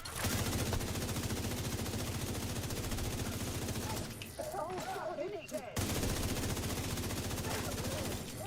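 Sustained automatic gunfire in The Division 2 rattles in dense rapid bursts, loud and close, with a brief lull in the middle before the heavy shooting resumes.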